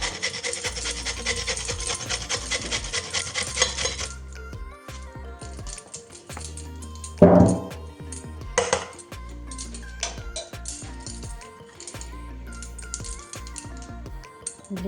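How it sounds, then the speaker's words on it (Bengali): A peeled carrot is rubbed against a grater in a home kitchen while making sandwiches, giving steady close rasping strokes for the first few seconds, then a sharper clatter and more scattered scraping and light knocks. "গাজরটাকে আগে থেকে খোসাটা ছাড়িয়ে রেখেছি, এবার গ্রেট করে নেবো।"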